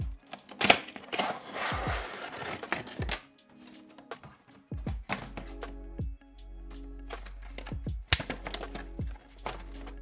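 Packaging for an Aviation400 Etihad Airbus A400 diecast model being opened up close: sharp cardboard taps, thunks and scrapes in irregular bursts, with rustling handling between and a low hum underneath.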